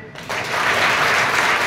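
Applause from a school audience at a health awareness program, starting after a short pause and swelling into steady, dense clapping from many hands that carries on to the end.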